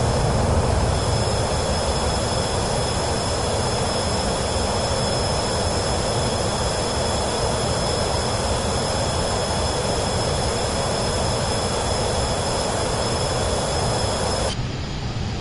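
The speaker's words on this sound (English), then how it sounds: "this jet is a lot louder than the vision" A jet aircraft's engine, heard from the external view in the Microsoft Flight Simulator 2024 video game, gives a loud, steady, unbroken roar that holds for the whole stretch, with no talking over it.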